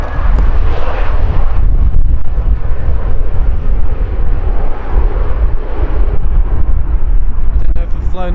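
A British Airways airliner passing at Manchester Airport, its engine roar loud and close, swelling and rumbling steadily, with wind buffeting the microphone and people talking over it.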